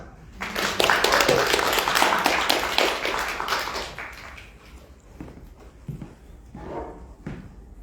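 An audience at a book launch in a Tartu department-store bookshop breaks into applause, building quickly to a dense clatter of claps, then tapering to scattered hands and faint movement.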